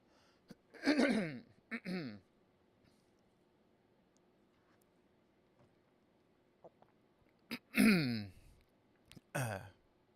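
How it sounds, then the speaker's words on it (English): Two pairs of short, harsh throat bursts, a cough or throat clear and then another pair after a quiet pause, close to the mic. "I do have to cough one more time."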